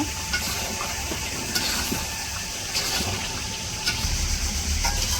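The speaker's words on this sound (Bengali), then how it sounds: "তো আমাদের মুরগির মাংস কষানো হয়ে গেছে এখন পানি দিয়ে দিব" Water is poured into chicken curry with potatoes that has been frying in a pan. A hissing, steamy sizzle rises and falls in uneven surges, moderately close, with no voices over it.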